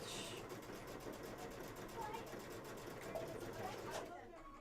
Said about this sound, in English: we're going to stop there and backstitch